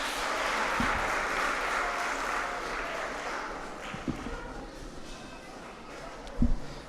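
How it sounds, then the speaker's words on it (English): An audience at a children's speaking competition applauds a contestant, a faint, even wash of distant clapping with a few sharper thumps near the microphone. "Please give her a round of applause."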